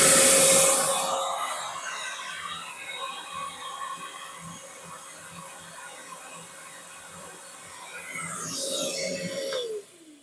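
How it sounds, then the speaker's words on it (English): A big old Craftsman shop vac rated at 4.25 peak horsepower whines up to speed, runs with a steady droning roar, then winds down as it is switched off. "Can I still power up this shop vac? This is a big old Craftsman shop vac."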